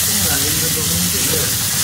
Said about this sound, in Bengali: দেখো এখানে আমি পেঁয়াজ ভাজছি